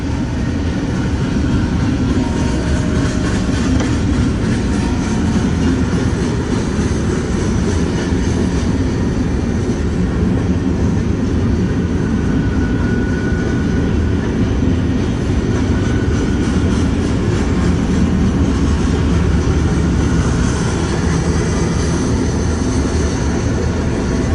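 A freight train with a Southern Pacific boxcar rolls past, a loud continuous low rumble and rattle of wheels on rails holding steady throughout with no one speaking.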